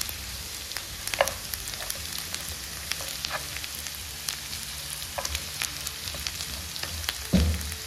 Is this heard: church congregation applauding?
no